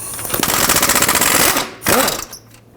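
A ratchet on a long extension with a 14mm socket works an exhaust bolt under a 2013-2020 Nissan Pathfinder, a rapid loud clicking burst of about a second and a half, then a shorter second run.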